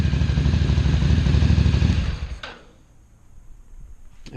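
Ducati 800 Scrambler track bike engine running at a steady close rumble for about two seconds, then cutting off abruptly with a clunk and fading to quiet.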